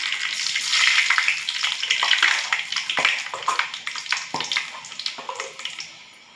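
Ingredients go into heated oil for a jilebi fish curry and set off a loud, rushing sizzle. It settles into a rapid patter of crackles that fades toward the end, with no speech.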